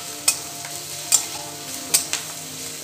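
Garlic and ginger frying in oil for a Bengali jhuri snack, with a spoon scraping and stirring the pan in sharp strokes about once a second over a steady soft sizzle.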